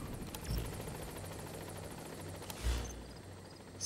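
A helicopter in Metal Gear Solid V: The Phantom Pain drones steadily with a rapid rotor chop, fairly distant and even, with a couple of faint thumps.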